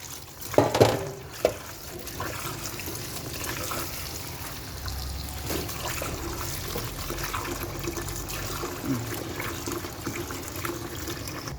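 Water lily stems being rinsed in water in a kitchen, a continuous soft splashing and trickling with a few sharper handling knocks near the start.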